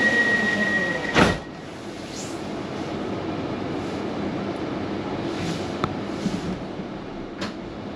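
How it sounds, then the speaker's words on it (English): Glasgow Subway train doors close with a short thud, then the carriage moves off with a steady low rumble and faint squeals on the rails, heard from inside the car. "and doors are closing"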